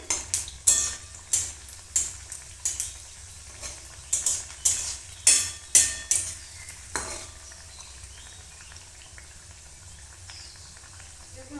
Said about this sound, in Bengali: হালকা গরম তেলে ভেজে নিতে হবে